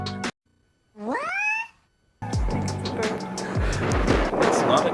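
A goat in a rugged volcanic crater on Fuerteventura lets out a single rising, cat-like bleat from a distance. Afterward comes louder wind and handling noise with some talk.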